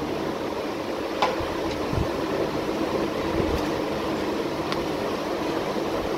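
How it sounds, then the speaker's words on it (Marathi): An electric fan runs steadily in a hot home kitchen where jowar bhakri dough is being kneaded, giving a constant close whooshing hum with a few faint clicks and no talking. "फॅनचा आवाज येतो मला"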